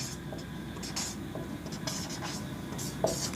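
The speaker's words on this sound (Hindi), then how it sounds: "चलिए इस बात को लिखते हैं।" Pen or marker scratching out handwriting on a board or paper during a ninth-grade maths lesson, a steady soft scribbling made of short strokes, close and continuous, with a faint tap near the end and no one speaking.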